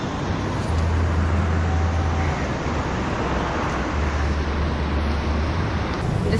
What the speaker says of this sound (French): je suis un peu coincée dans la circulation. Et les voitures, c'est pas mal, hein?